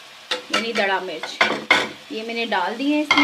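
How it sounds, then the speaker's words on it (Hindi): Red chili, turmeric and chili flakes fry in a pan for Lahori chickpeas, a soft sizzle and stirring scrape running under a person speaking close by. "इसको हम थोड़ा सा फ्राई करते हैं ताकि कच्चापन ख़त्म हो इनका"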